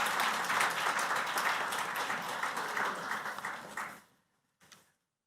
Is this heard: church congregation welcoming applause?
yes